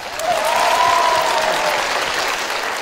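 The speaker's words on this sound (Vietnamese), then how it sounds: "Thưa quý vị, một tràng vỗ tay để chúng ta bắt đầu." Studio audience at a Vietnamese TV game show bursts into sustained, loud applause, a dense wash of clapping that swells quickly and carries on evenly for a few seconds.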